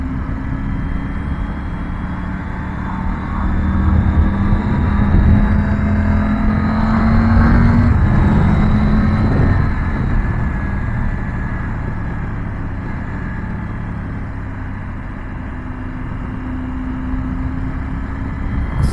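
Triumph Tiger 900 GT Pro motorcycle cruising on an abrasive road surface in Normandy, with steady engine drone and wind rush that swells briefly as the bike speeds up before settling back to a relaxed pace.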